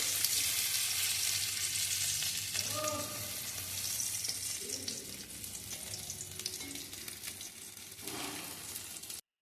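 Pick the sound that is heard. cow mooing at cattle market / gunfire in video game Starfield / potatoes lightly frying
potatoes lightly frying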